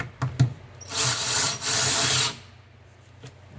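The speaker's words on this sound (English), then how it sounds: "Take our little DeWalt" A small DeWalt cordless screwdriver drives a screw for a cabinet knob in one steady whir lasting just over a second, framed by a few close clicks and handling taps.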